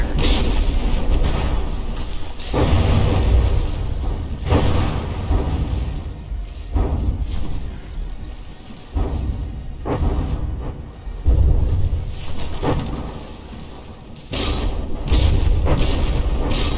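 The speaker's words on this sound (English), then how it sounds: "There's always shells about to hit." Artillery shells from warring battleships in From the Depths slam home again and again, heavy booming impacts and deep thuds rolling over a dense, rumbling battle din, loud and close with irregular spacing.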